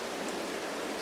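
Steady rain falls in Farming Simulator 22 on a March morning at the farm, a dense, even hiss that fills the scene alone without a break.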